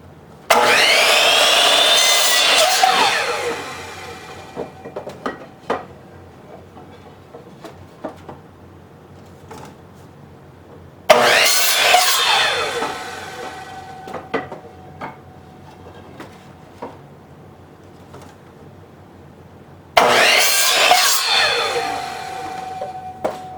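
Power saw cutting wood boards for a tower ladder gate build, three loud sustained cuts with a rising whine, each followed by quieter pauses with faint knocks and handling sounds.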